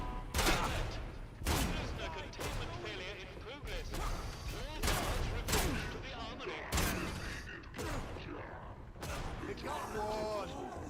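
Shotgun gunfire in the video game Atomfall, repeated loud blasts spaced every second or so amid game sounds and mechanical clatter, with a person talking over the combat.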